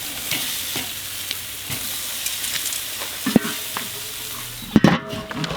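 Picanha steaks sizzle on a hot grill, a steady bright crackling hiss with a few louder clatters and scrapes near the end as the meat is turned.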